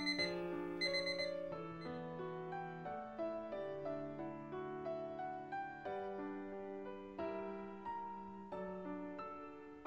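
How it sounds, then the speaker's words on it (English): An alarm tone from the video game Nurse Love Addiction plays a looping melodic chime pattern, steady and fairly quiet, repeating evenly throughout. "I'm gonna turn off your alarm."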